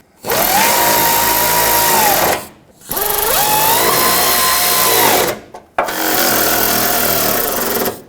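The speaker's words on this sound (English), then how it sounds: "Now let's start in these other screws." A power drill driving screws into a valance panel on a 2007-2014 Chevrolet Silverado 2500HD, three close, loud bursts of whirring motor that rise in pitch, with brief pauses between them.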